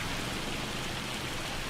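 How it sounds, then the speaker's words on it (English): Loud, steady rainfall in the Farming Simulator 25 video game, an even, unbroken wash of noise with no speech. "it's loud, so I'll try to overpower the rain"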